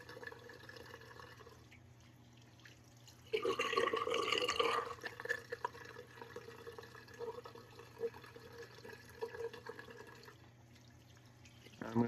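Running tap water rinses off after a shave, starting as a soft trickle, then a louder burst of splashing, followed by irregular drips and splashes close by over a low steady hum.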